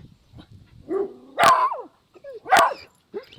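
A dog barking near the farm chickens, with low whimpers and a rising yip followed by two sharp, loud barks spaced about a second apart, then a softer yelp.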